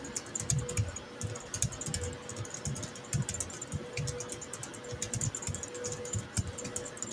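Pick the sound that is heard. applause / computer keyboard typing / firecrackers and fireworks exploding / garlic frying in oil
computer keyboard typing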